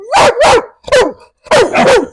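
A dog barks close and loud in quick pairs, four sharp woofs in two bursts separated by a short pause, with nothing else audible.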